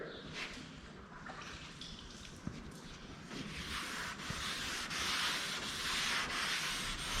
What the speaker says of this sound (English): But when you sand it out like this, it shows you the little bitty spots that need taken care of.